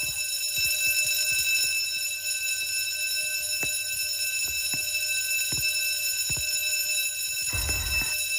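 An alarm in the Roblox video game rings steadily and loudly throughout, a sustained electronic tone with no one speaking.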